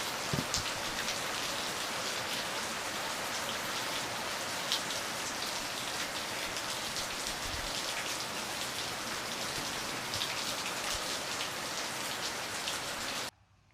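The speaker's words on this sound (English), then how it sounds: "It's actually raining pretty good here at the moment." Rain falling steadily on a carport, a dense continuous patter of drops striking the surface, even and fairly loud throughout before cutting off abruptly at the end.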